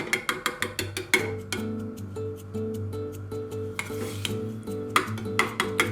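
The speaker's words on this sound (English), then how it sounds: "You are going to place some in a pan." A spoon stirs apricot jam heating in a pan on a gas stove, knocking against the pan in quick regular taps over a low steady hum, close up and without speech.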